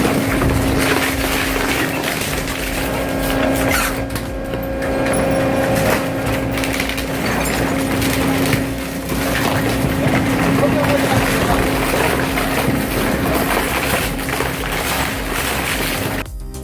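A twin-shaft wood chipper and shredder runs with a steady, droning engine hum carrying a constant low tone, with rougher churning surges at moments.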